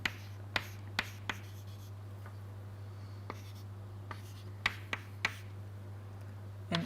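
Chalk or marker writing on a board during a semiconductor physics lecture, heard as a series of sharp, isolated taps and strokes spaced irregularly over a steady low electrical hum, with no talking.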